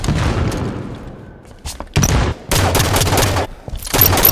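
Weapon fire in the Halo 5: Guardians multiplayer game, with bursts of loud close gunfire, booming impacts and short hitmarker pings arriving in clusters with brief gaps between.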